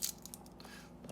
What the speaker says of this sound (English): I'm just going to smash and peel my garlic